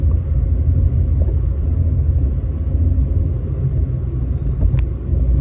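A car coasting downhill off the throttle on a road leaving Cloudcroft toward Alamogordo, New Mexico, with a steady low rumble of tyres and wind throughout and no voices.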